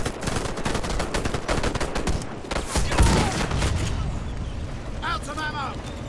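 Gunfire in the Warface video game during a convoy mission: rapid, dense bursts of automatic fire that continue without a break, with a voice briefly heard near the end.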